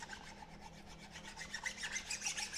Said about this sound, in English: he's just taking a flat file to that machined edge to make sure there's no burrs on it